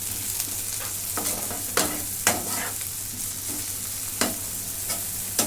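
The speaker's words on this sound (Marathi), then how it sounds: "कलर छान येईल भाजीला म्हणून आता हे पण परतून घेते" Chili and beetroot are stir-fried in a pan for pav bhaji. A steady sizzle runs throughout, with regular scraping stirs and clinks from the utensil, and nobody talks.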